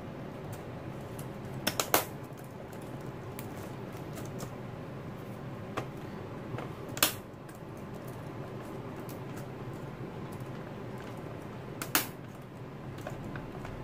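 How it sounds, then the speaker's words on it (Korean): A keyboard connector lock on a Samsung R480 laptop clicks into place during disassembly and cleaning, giving a few sharp, faint snaps that stand apart over a quiet background. "부러지는 게 아니고 락이 걸려져 있는 게 맞는 소리예요"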